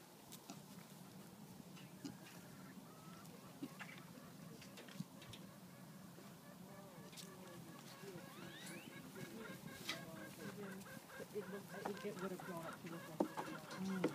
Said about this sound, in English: What is that chicken doing?